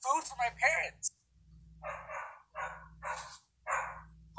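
A dog barks in short, clipped bursts under a muffled, compressed recording that sounds like it is picked up through a voice call, with a faint low hum between barks.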